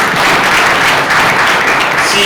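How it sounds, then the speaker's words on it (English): An audience at a banking and finance institute graduation ceremony claps for the CEO, dense continuous applause filling the hall, loud and close, without voices. "So can we clap for our CEO?"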